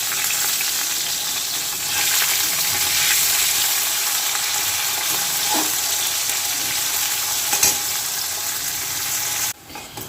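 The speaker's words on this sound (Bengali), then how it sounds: "ভালো করে লাল করে করলাগুলো ভেজে নেব বন্ধুরা।" Pieces of salted, turmeric-coated bitter gourd frying in oil give a steady, close sizzle with a faint stirring clatter, running unbroken for about ten seconds before cutting off abruptly near the end.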